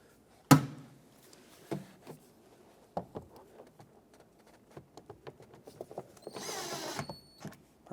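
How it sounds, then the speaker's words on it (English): Screws are driven by hand into a plastic door panel on a 2009-2014 Ford F-150 during a mirror replacement, giving a close, quiet series of small creaks, clicks and ratcheting ticks, with one sharp knock at the start. "Now let's put the bottom two screws in."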